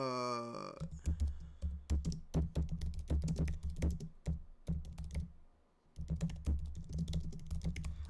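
Someone typing notes on a computer keyboard, with bursts of quick, close, crisp key clicks, a short pause near the middle and then more typing. A brief tone sounds at the very start.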